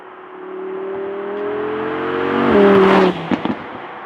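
An Audi R8 V10+ engine revs hard while driving, its tone climbing smoothly to a loud peak. The engine then lets off, followed by a couple of quick pops and crackles.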